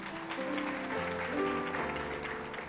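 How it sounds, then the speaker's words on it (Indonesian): A church congregation applauds for Jesus during a sermon, giving steady, dense clapping that blends with sustained musical tones throughout. "Kasih tepuk tangan untuk Tuhan Yesus."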